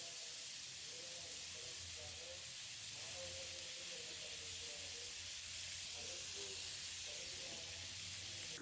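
Butter sizzles in a hot pan for a chicken curry, a steady close hiss with faint crackles throughout and no speech.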